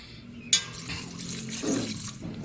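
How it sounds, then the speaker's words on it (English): Clean filtered drinking water runs from a tap over freshly washed coriander while a Filipino radish pickle (atsara) is being prepared: a sudden splash opens a steady, close rushing stream with no talking. "run clean water."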